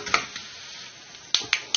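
Coriander, mustard and fenugreek seeds dry-roasting in a pan give off a few faint crackles and sharp little pops, spaced irregularly.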